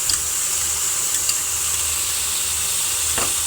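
Four eggs go into a hot pan to fry, with a steady, close hiss of sizzling oil running throughout and a couple of faint ticks.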